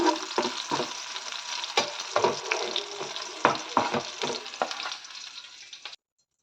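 Green chillies fry in hot oil in a pan, a steady close sizzle broken by sharp stirring scrapes and clatters, fading out near the end.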